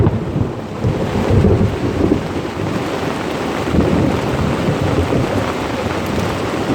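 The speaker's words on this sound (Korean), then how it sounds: "천둥 번개가 지금 어제 밤부터 이렇게 똑같이 치면서 오거든요." A heavy downpour hammers a campsite at Godaesan recreation forest, with dense, loud rain and rolling thunder rumbling underneath in swells, and no voices.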